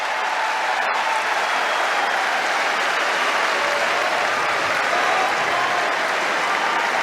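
Sustained applause from the Wimbledon centre court crowd for Cameron Norrie during his 2022 match against Novak Djokovic, a dense, steady roar of clapping that holds loud and even throughout.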